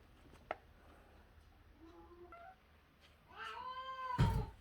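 Two or three cats meow insistently for food up close, short calls building to a louder, drawn-out yowl near the end.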